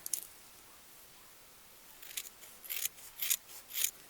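Scissors trimming fabric for a clay pot snowman craft, a few crisp, close snips that come faster and louder toward the end over a quiet room, with no talking.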